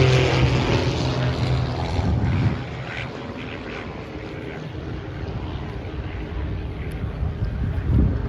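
A Sopwith Pup replica biplane taxis at an airshow with a rumbling propeller engine, loud at first before dropping to a steadier drone, and wind buffets the microphone.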